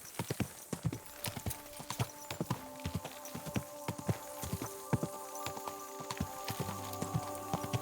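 Horse hooves clip-clop steadily on a road in Kingdom Come: Deliverance II, a regular walking rhythm of sharp, close hoof strikes with game ambience and music behind them.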